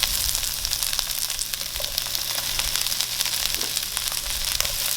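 Tempe frying in a pan for a vegan opor tempe, a steady dense sizzle with scattered crackles running without a break, fairly close and with no talk over it.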